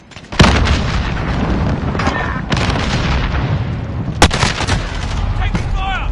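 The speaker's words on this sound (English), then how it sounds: "Taking fire!" Incoming gunfire in a video game: sharp loud shots crack at irregular intervals over a continuous dense din of battle, with a faint voice briefly audible in the mix.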